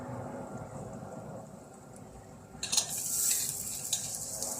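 Chopped onions tipped into hot oil with turmeric and asafoetida, a quiet pan hum that bursts into a loud, steady sizzle and keeps crackling, with faint scraping from a spoon.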